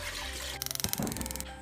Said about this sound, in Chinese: 再放一点料酒，加水